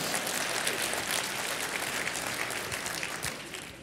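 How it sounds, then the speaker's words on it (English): Audience applause at a corporate kickoff keynote, a dense, steady wash of clapping heard fairly faint and distant, continuing evenly for a few seconds. "It's a full round of applause, apparently."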